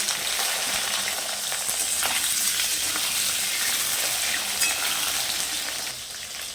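Potatoes frying in oil in a pan for a vegetarian papaya curry, a steady dense sizzle that holds evenly throughout with no talking, easing slightly at the very end.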